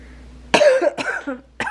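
A woman gives three dry, raspy coughs at close range, one long burst followed by two shorter ones, set against a quiet indoor backdrop.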